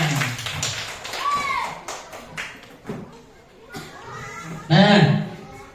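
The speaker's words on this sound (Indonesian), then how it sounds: "Betul, tepuk tangan" Schoolchildren in a classroom clapping, scattered bursts of small hands amid children's chatter, with a louder burst near the end.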